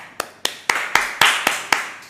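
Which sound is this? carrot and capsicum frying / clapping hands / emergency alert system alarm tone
clapping hands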